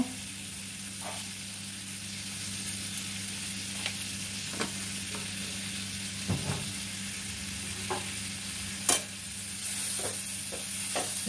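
A spoon scrapes and stirs star fruit pickle with sugar in a pan, giving a dozen or so sharp, irregular scrapes and clicks over a low steady hiss of gentle cooking, with a louder clack near the end and no talking.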